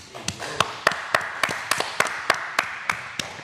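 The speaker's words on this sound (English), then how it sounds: "Let's give him a round of applause." Applause in a university TV studio for a quiz show champion: about a dozen crisp, evenly spaced single claps in a slow, steady rhythm, close and distinct over a quiet room.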